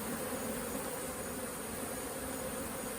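A mass of honey bees at the hive chases off invading beetles, giving a thick continuous buzz of countless wings that stays close and uniform from start to finish.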